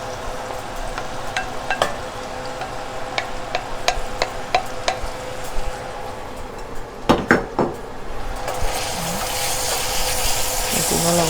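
Chopped onion dropped into hot oil for a spaghetti and ground-meat sauce, with the clink of pots and utensils and scattered stirring before a steady sizzle swells loudly near the end.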